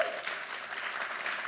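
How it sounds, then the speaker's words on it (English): An audience at an evening talk applauds, a brief burst of dense, steady clapping that fills the room without a voice over it. "Please give yourselves a round of applause for listening."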